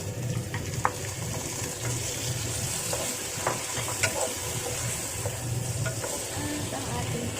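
Sizzling and stirring as mushrooms go into a hot asparagus stir-fry with kikiam, a steady frying hiss with scattered clicks of a utensil against the pan throughout.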